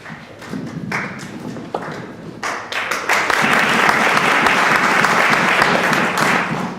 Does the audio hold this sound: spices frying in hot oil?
no